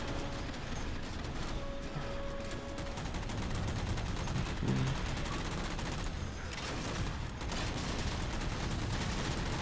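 Banshee aircraft in Halo 4 firing on the player: a steady stream of rapid, crackling shots and impacts that runs without a break, fairly distant and unbroken by speech.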